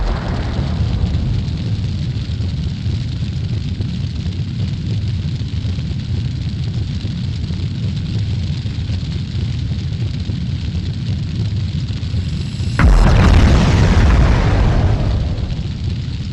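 Explosion in the firefighting video game Fire Heroes, a sudden loud blast bursting out of a steady low rumbling roar of fire about three-quarters of the way through, then a broad crackling wash that slowly fades.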